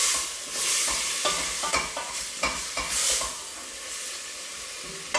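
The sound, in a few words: food frying in olive oil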